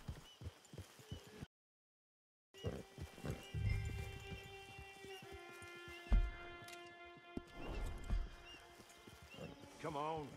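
Horse hooves clip-clop in Red Dead Online while people talk, with a brief silent gap near the start and occasional whinnying.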